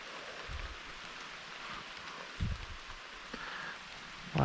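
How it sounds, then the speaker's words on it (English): Light rain patters softly and steadily over rocky water while fishing for rock bass, with a few faint nearby knocks and rustles over the quiet hiss. "The first time we've had rain in months, it feels like."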